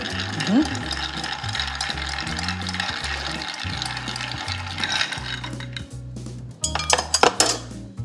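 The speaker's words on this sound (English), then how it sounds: "I'm gonna give a nice stir." A cocktail stirred in a glass by a bartender, a continuous rapid clinking and rattling of a spoon and ice, loud and close, with voices briefly in the background.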